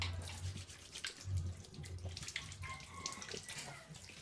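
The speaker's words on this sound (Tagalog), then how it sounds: "Parang lambot ng tubig dito pag ikaw naghuhugas." Tap water runs steadily from a faucet into a sink while hands are washed, a continuous close splashing stream with small surges and no talking over it.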